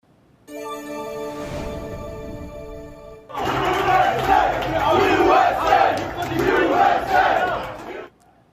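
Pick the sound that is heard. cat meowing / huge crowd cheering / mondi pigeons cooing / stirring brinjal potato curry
huge crowd cheering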